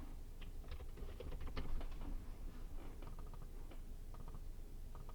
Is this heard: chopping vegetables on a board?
no